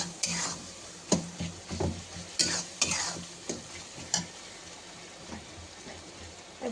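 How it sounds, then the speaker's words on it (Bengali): Spices fry in a pan for a mutton curry as a spoon stirs them, giving a run of sharp scrapes and clinks against the pan over a soft, low sizzle. "এবার এটা একটুখানি নাড়বো, সব মশলাগুলো মিশিয়ে নিই।"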